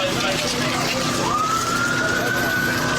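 Police car siren wailing while escorting an ambulance through blocked traffic, a loud, close, continuous siren tone sweeping upward over steady road and engine noise, with a voice talking over it.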